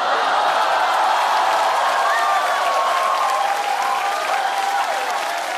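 A live stand-up comedy crowd applauds and cheers loudly, a dense, sustained wash of clapping with scattered whoops that fades slightly toward the end, with no speech.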